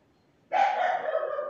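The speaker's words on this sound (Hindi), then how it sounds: "इन कुत्ते बीच बीच में भौंक रहे हैं" A dog barks at night, one sustained loud bark or yelp that starts abruptly and carries for about a second, standing alone against a quiet background.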